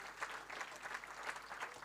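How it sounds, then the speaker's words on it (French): Audience applause at an end-of-year church show, a soft, steady patter of many hands heard from a distance, filling the whole moment without voices. "on peut encore applaudir tout le programme"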